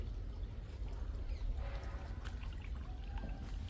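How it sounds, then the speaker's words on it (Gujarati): Water pours into a tank on farmland, a faint continuous splashing trickle over a low rumble, with no voices. "આપણું થાણું ભરાઈ ગયું પાણીથી ટૂપ ટૂપ ટૂપ ટૂપ."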